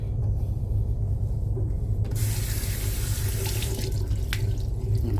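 Water gushes from a sink tap in a steady, loud stream over a low rumbling hum, with the flow strengthening partway through.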